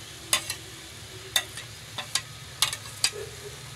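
Chicken boti with tomatoes and green chilies stirred on a hot tawa, with a series of sharp close spatula scrapes and clinks over a soft steady sizzle, no talking.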